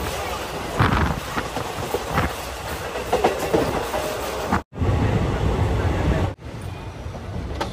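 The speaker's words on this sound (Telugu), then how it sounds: "ఎంతైనా ట్రైన్లో ట్రావెల్ చేసేటప్పుడు ట్రైన్ సౌండ్ ఉంటుంది చూడండి, చాలా అంటే చాలా బాగుంటుంది." A passenger train travelling from Vijayawada to Donakonda heard from inside a coach: continuous rail rumble with clickety-clack wheel beats and rattling, loud and close, with two brief dropouts.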